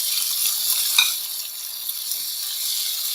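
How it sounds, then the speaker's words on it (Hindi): Biryani masala with garam masala frying in hot oil before the chicken goes in, giving a steady, close hiss of sizzling with a couple of soft stirring knocks, and no voices. "इसे 1 मिनट फ्राई करेंगे और इसमें अपनी चिकन शामिल कर देंगे।"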